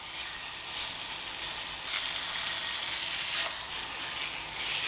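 Tofu sears on a hot skillet, a steady close sizzle and hiss of frying oil that holds evenly without any talk.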